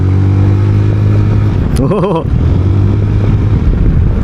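A 2026 ZONTES 368G scooter in S mode drones steadily, and a rider's exclamation briefly breaks in before the engine resumes its continuous hum.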